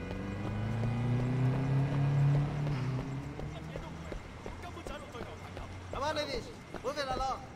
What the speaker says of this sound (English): Stupid fucking horse.